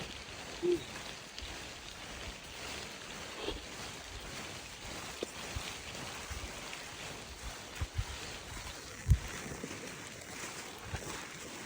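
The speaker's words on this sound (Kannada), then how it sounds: "ಚಳಿಗೆ ಇಲ್ಲಿ ನೋಡ್ರಿ ಈ ತರ ಮಳೆ ಬರ್ತಾ ಇದೆ" Steady rain hisses softly all around on a Western Ghats trek, with a few sharper drops or knocks standing out now and then.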